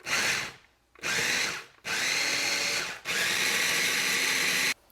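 A blender purees onions and garlic in four loud, whirring pulses close by, separated by short silent pauses.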